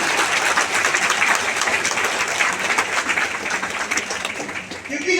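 An audience at an event in Surat claps loudly and continuously, a dense wash of applause that eases slightly toward the end.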